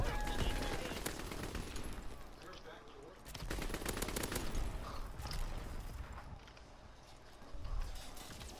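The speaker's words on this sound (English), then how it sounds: "Keep shooting him." Gunfire in a WW2 multiplayer video game, dense bursts of rapid machine-gun fire and crackling shots running nearly the whole time, loud and close, with faint voices underneath.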